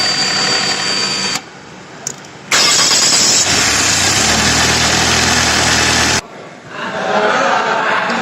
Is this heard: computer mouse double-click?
no